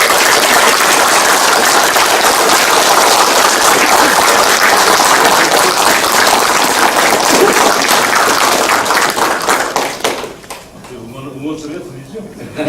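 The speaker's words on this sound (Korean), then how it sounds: "이게 저 방송 녹화도 하고 있는 거에 박수를 크게 쳐줘야 됩니다" An audience at a business agreement signing ceremony for a knowledge industry center in Jecheon claps loudly and continuously for about ten seconds, then the applause abruptly dies away into quiet room noise.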